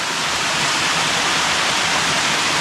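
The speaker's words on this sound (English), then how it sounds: "We came up that waterfall right there into this area right here." Rushing waterfall on a hike, a steady loud broadband roar of falling water filling the whole clip with no voices.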